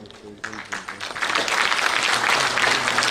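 Applause from the audience at a public event swells after a short spoken lead-in and builds into steady, full clapping.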